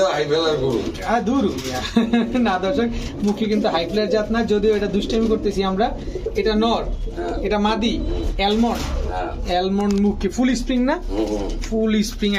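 Highflyer Giribaz pigeons at a sale coo close by in repeated throaty, rolling bursts that overlap one another continuously, loud and unbroken.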